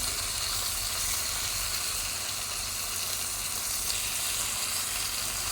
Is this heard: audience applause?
no